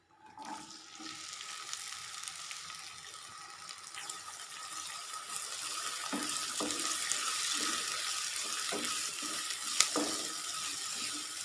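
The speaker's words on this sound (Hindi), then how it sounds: "अब मैं प्याज फ्राई करती हूँ।" Onions fry in the same oil that earlier cooked okra, making a steady, rushing sizzle that swells gradually, close and continuous, with occasional soft clicks and no talking.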